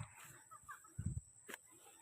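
Chickens on a small backyard plot cluck in short bursts, a few quiet calls and one fuller cluster near the middle, heard close and softly over light outdoor background noise.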